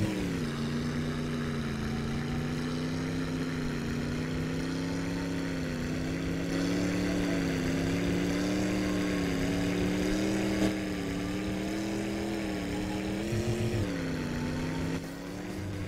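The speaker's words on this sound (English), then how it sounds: "So now we're just going to hold down the brake, hold down the throttle, and here we go." Modded V8 engine in a Kekmet tractor from My Summer Car at full throttle, a loud steady droning roar with a strong harmonic whine that wavers slightly in pitch and holds for the whole stretch with no talking.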